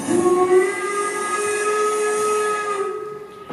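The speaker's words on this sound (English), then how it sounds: "5 o'clock whistles. Is there a happier sound to the day of the factory worker?" A loud factory steam whistle sounds one long, sustained tone with a hissy edge, holding steady for about three seconds before fading.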